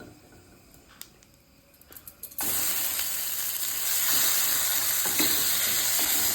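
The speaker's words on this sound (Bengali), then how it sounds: "এবার এটা একটু ভাজা ভাজা করে নেব।" Spice paste with black cumin hits a hot pan and starts frying with a sudden loud sizzle that holds steady and builds slightly, after some quiet clinks of the pan beforehand.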